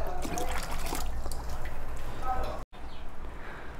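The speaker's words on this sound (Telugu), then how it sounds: "లైట్గా వాటర్ యాడ్ చేసుకుంటూ ఉండాలి" Water trickled slowly into an aquarium fish tank, a light dribbling splash running close and steady for most of the stretch before a brief dropout, then continuing more faintly.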